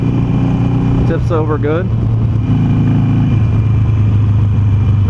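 Harley-Davidson Sportster Roadster motorcycle engine rumbling loudly and continuously up close, with a deep, steady throb while a rider's voice speaks briefly over it.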